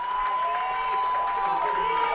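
A home crowd at a Kenton versus St. Marys high school football game stands and cheers for its defense on a fourth-and-short play. The steady roar stays under a broadcaster's continuous commentary.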